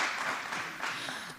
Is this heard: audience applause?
yes